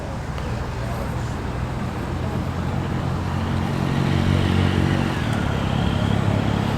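A 1980s Volvo F616 flatbed recovery lorry drives past with a steady diesel engine drone and road noise that swells slightly as it comes near, over a noisy outdoor background at a classic truck run.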